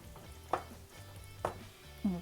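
Mint chicken curry being stirred in a pan, with a quiet, continuous sizzle broken by three soft scrapes of the spoon, and no voices.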